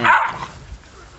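Dog barking outdoors near woods, a single sharp bark at the start fading into quiet outdoor ambience, fairly close and loud.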